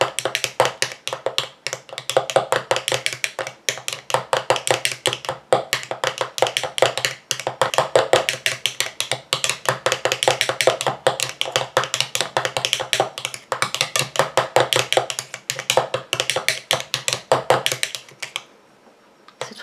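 Cold process soap batter is mixed in a bowl with a long run of rapid, close, sharp clicking and tapping strokes in a steady rhythm, ending with a short pause and quieter tail.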